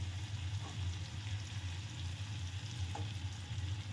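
Pointed gourd curry fries in a pan as tomato ketchup is stirred in, giving a steady soft sizzle with faint scraping of the spoon, close and quiet, with no voices.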